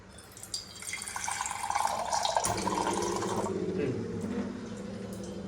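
Drinking water pours and trickles into a container in a home kitchen, a close, steady filling sound whose tone shifts lower partway as the vessel fills, with faint background noise.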